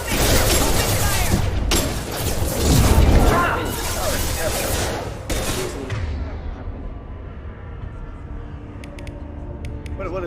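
Gunfire in the sci-fi shooter Mass Effect 2 comes as a dense burst of rapid shots and impacts over the first five seconds, then fades to a quieter ambient tail with a few faint clicks and some voices.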